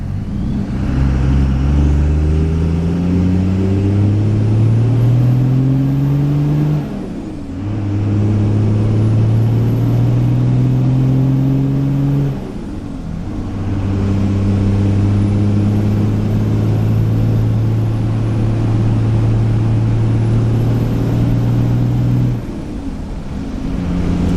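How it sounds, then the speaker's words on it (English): A Dodge Cummins diesel pickup with its muffler cut off, driving and pulling hard through several gears. The loud, deep engine drone climbs steadily in pitch and then drops back at each of three or four shifts. "Much louder with a muffler cut off."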